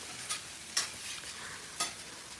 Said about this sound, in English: while you're hibachiing up that rice